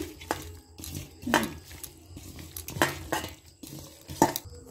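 Raw chicken pieces being mixed by hand with cumin and coriander powder in a bowl, giving soft wet squishing and occasional clinks against the dish in irregular bursts, close and fairly quiet.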